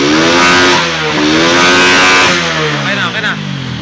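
A SYM 125 motorcycle with a misfiring engine and a newly fitted 4-pin CDI is started and revved hard. Its loud, close engine note climbs and falls in steady surges, wavering near the end as the revs drop.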